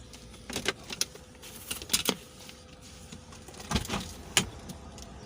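A set of keys jangles inside a car in several short, clustered metallic rattles, fairly close and quiet over a low steady hum.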